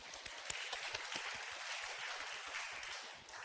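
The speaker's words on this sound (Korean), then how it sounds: "우리를 언제나 기도의 자리로 부르시는 하나님께 감사하며 영광의 박수 올려드립시다." A church congregation at a Sunday worship service claps together in a dense, sustained round of applause, many hands close and steady before tapering off at the end.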